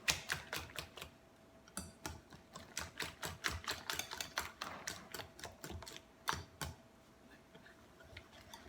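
A whisk beats a ricotta mixture in a bowl, making rapid rhythmic ticking clicks in a steady fast run that slows near the end, close and fairly quiet with no talking.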